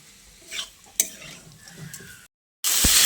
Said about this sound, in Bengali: ফুলকপিগুলোকে দিয়ে মশলার সঙ্গে খুব ভালো করে কষিয়ে নিতে হবে